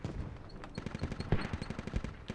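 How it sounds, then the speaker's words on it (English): Rapid bursts of rifle and machine-gun fire from the military shooter game Squad crackle in quick succession, distant-sounding and fairly faint, with sharp individual shots clustering into uneven volleys. "Vehicle's getting a couple shots from far, though."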